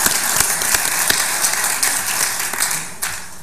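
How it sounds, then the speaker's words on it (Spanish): Audience applause fills a hall at a parliamentary conference, a continuous crackle of many hands clapping with a few sharper individual claps, steady and fairly loud throughout. "Un aplauso, por favor."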